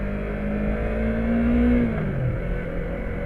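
Motorcycle riding on a wet road in the rain near São João del-Rei, a steady engine drone with a rising and falling whine under constant road and wind rush, close and loud.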